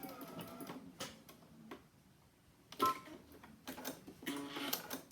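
A sewing machine stitches a seam back and forth in short bursts, a quiet mechanical whirring broken by pauses and a sharper click or two, heard close with no talk.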